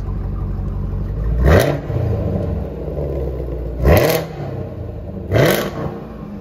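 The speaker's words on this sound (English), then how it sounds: "Do a couple little revs." A Honda S2000 engine idles with a low rumble, then blips sharply three times in quick revs before settling back each time.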